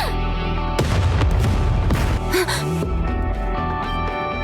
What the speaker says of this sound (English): As Neon steps forward, a massive explosion triggers underneath her.